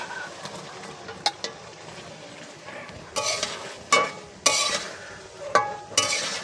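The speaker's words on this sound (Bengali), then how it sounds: "চিকেনগুলো ভালোভাবে নেড়েচেড়ে কিছুক্ষণ কষিয়ে নিতে হবে।" Chicken is stirred in a frying spice masala for chicken biryani. A steady soft sizzle runs under intermittent scraping and clinking of a spoon against the pot, close and moderately loud, with no speech.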